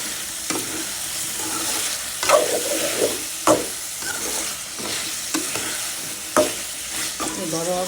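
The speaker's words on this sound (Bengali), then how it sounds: "দিয়ে দিলাম মিষ্টি কদু আর বেগুন, পেঁয়াজের সাথে সাথে ভাজা ভাজা হোক" Pumpkin, eggplant and onion sizzle in a pan with dried fish while a spatula scrapes and stirs them, the steady frying hiss broken by repeated sharp clacks of the utensil, and no talk.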